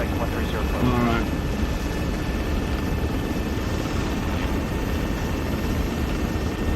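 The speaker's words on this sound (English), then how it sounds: "I'm preparing to land, you should be checking both sides to see if I'm clear, because helicopters are kind of fucking big." Helicopter landing in the video game Arma 3, a steady broadband rotor and engine roar running throughout, loud and constant, with a faint rising whine near the start.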